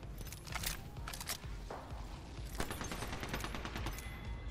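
A Mozambique shotgun fires in Apex Legends in a few sharp gunshot bursts mixed with other gunfire and footsteps, moderately faint and set against steady game noise.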